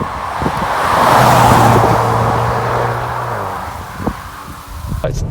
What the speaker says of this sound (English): I've got some flyby footage of this car just driving along, and you can hear the exhaust,